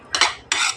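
Dishes, pots and plates being washed, two quick bursts of clattering metal and crockery close by, sharp and bright with no voices.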